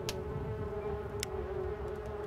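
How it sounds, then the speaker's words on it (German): Bees buzz in a steady, close drone with a few faint clicks in the Demon Hunter video game, continuous and without speech. "Wegen all dieser Bienen komme ich nicht dran."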